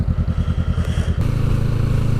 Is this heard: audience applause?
no